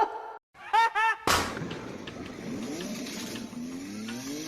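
A professional drift car with a 6XD sequential gearbox revs hard on a wet track, a loud sudden engine blast with rising, climbing pitch that follows a moment of brief talk.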